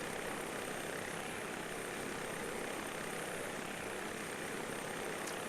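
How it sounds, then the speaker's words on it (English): A simulated helicopter in the Aerosoft Aspen X flight simulator game gives off a constant, even engine and rotor whoosh, a flat broadband drone without talking. "now that we've got the helicopter here"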